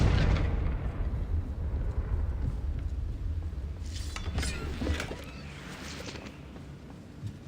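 A Confringo fire spell explodes in Hogwarts Legacy, a loud burst with a rumbling, crackling low-end roar that then thins into fizzing, popping debris and scattered impacts over several seconds.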